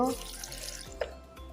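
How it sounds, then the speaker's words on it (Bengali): A cup of water is poured into a pot of chopped apples for homemade juice, a brief, quiet trickle and splash lasting about a second. "এক কাপ পানি দিয়ে দিব"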